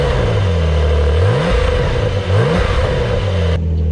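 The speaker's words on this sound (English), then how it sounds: "All right, we're gonna rev it and see if it sounds better than my Fister exhaust." A Porsche 911 of the 996 generation with an aftermarket exhaust, revved repeatedly while stationary, loud and close, the engine rising and falling in several blips.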